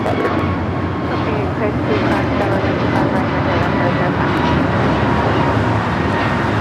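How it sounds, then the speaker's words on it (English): An American Airlines Airbus A321neo taking off for Dallas Fort Worth roars in a loud, steady jet rumble that holds throughout, heard close at an airport with no gaps. "2746 taking off to Dallas Fort Worth on the A321neo."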